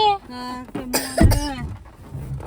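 A few sharp coughs break out near a voice, with a short burst of harsh coughing in the middle before things go quiet.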